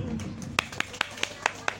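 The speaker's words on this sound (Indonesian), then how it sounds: "tepuk tangan dulu" Sparse hand clapping from an audience at a Sundanese stage performance, about six distinct sharp claps in an uneven rhythm, under background talk.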